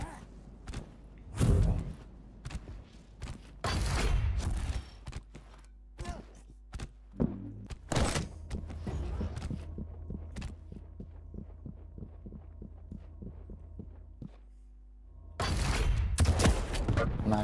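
Railgun shots in a Quake duel, heard as a handful of sharp, loud blasts spaced several seconds apart, with quieter thuds and footsteps of in-game movement between them.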